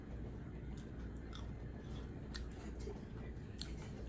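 Close, crisp crunching bites and chewing of oven-fried eggplant, steady and textured, with faint background hiss and no talking.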